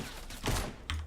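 Fortnite gunfire comes in two brief, quiet bursts of shots about half a second apart.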